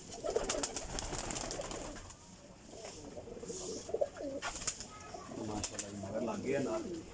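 Pigeons coo softly and repeatedly near a pigeon loft, the low rolling calls coming in bursts with short pauses between them. Someone talks over the birds.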